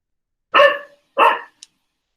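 A dog barks twice nearby during an online meeting, two loud separate barks followed by a couple of faint clicks in an otherwise silent room.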